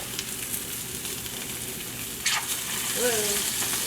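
Food seasoned with cracked pepper and kosher salt sizzles steadily as it caramelizes in a restaurant kitchen. The frying hiss is close and continuous, with a brief scrape of stirring near the end.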